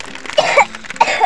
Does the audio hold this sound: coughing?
yes